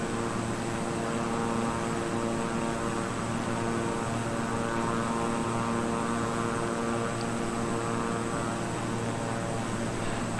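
Steady propeller drone of a Beechcraft King Air 350i turboprop in Microsoft Flight Simulator, a constant tonal engine hum with airy cabin noise running unbroken throughout at an even, moderate level.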